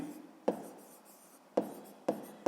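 A pen scratches quietly on paper while a sixth-grade math exercise is worked out by hand, in a few separate strokes, each starting with a sharp tap and fading into a soft scrape.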